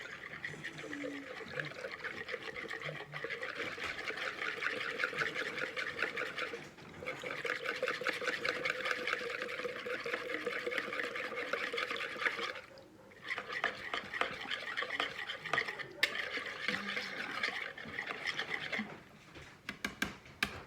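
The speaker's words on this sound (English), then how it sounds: "And then we're just going to whisk that together." Chili powder and garlic are whisked together in a bowl, a rapid rhythmic scraping in close bursts separated by short pauses, with no talk over it.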